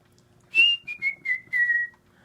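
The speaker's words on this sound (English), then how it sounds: "Of course, Grandma replied, and she started to whistle." A grandmother whistles like a bird while reading aloud, a short run of five clear, bright chirping notes, the first held longest and the rest slightly falling in pitch, close and alone against quiet.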